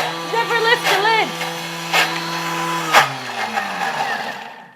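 A kitchen blender whirs with a steady motor hum and a few sharp clunks and surges while blending pesto sauce, fading out toward the end.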